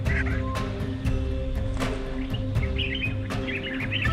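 Birds, including African skimmers, call at shallow pools where fish gather, giving repeated sharp chirps and squawks over a steady outdoor bed with some quacking among them.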